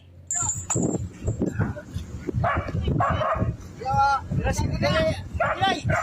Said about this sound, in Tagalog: magiliw itong sinalubong ng tahol ng aso